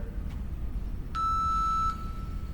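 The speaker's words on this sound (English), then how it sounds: "we got 3 seconds before we take it away with the beep here" A single steady electronic workout-timer beep during a mobility and stretching session, a clear tone with harmonics lasting under a second, sounding alone over a quiet room.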